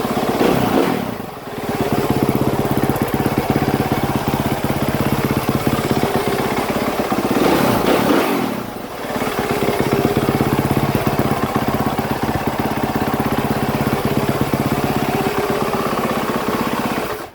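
A 2016 Suzuki RMZ450 dirt bike engine runs loud and close, a steady throaty drone broken by two sharp throttle blips that surge and drop back, continuing without talk.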